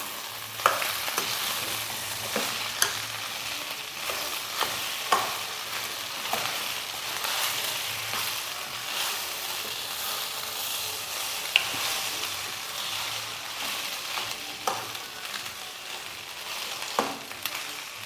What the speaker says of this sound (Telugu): సో ఈ రైస్ని మనం మొత్తం ఒకసారి కలుపుకుందాం.